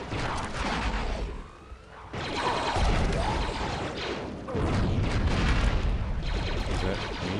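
Loud bursts of explosions and crashing debris fill Star Wars Republic Commando gameplay as a tree branch is blown up, with dense booms dropping briefly before another heavy blast and continued rumbling.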